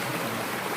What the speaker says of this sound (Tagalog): Yan, ito yung sapa. Malinaw ang tubig.